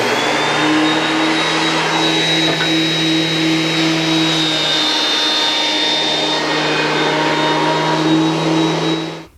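A DW734 thickness planer fitted with a Byrd Shelix helical cutterhead runs under load on its first cut, a loud, steady motor whine with a constant high-pitched tone that holds for the whole stretch and cuts off at the end.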